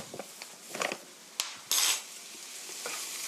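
Flour being stir-fried in a pot for onion cream soup, with a low background sizzle and scattered scraping and clinking of a utensil against the pot, close and moderately loud, with no talking.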